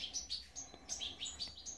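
Goldfinch hybrid birds chirp in an aviary, a rapid run of bright, high tweets repeating in quick bursts at close range, with no one talking.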